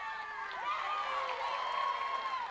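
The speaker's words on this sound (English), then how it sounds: "You hear the crowd. We have a decent crowd here" Crowd at a high school girls' soccer game, a steady murmur of many voices with scattered higher shouts and calls, moderately distant.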